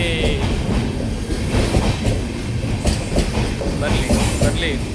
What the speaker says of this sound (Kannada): ಸೊ ನಮ್ಮ ಟ್ರೈನ್ ಹೋಗಿ ಇಲ್ಲಿ ಬಂದು ಈಗ ನಿಲ್ಲುತ್ತೆ